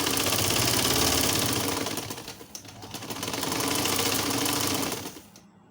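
A sewing machine runs continuously while stitching a fabric leaf-shaped coaster, a close, loud mechanical whir that eases slightly midway, picks back up, then winds down and stops just before the end.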